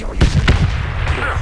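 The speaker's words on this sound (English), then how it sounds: "Oh, you threw a grenade right on me." A grenade going off beside the player in the military shooter Project Reality, a couple of close, heavy thumps in quick succession over a rumbling battlefield background.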